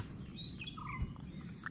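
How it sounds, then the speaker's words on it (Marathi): Birds chirp outdoors in a calm, cloudy setting, giving a few short, faint rising and falling calls scattered over a steady low rumble of background noise. "पक्ष्यांचा किलबिलाट"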